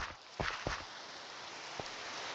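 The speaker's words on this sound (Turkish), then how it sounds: "Bir de yağmur başladı." Rain falls in Minecraft as a steady, faint broadband hiss with a few soft thuds near the start and one more later, heard alone without talk.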